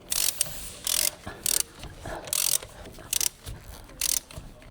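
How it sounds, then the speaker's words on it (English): An extendable ratcheting wrench with a large 19mm deep socket loosens the lug nuts on a 2008–2014 Mazda 3. Close, loud bursts of ratchet clicking come in short strokes with brief pauses between them. "Use the large 19mm deep socket and the extendable ratcheting wrench."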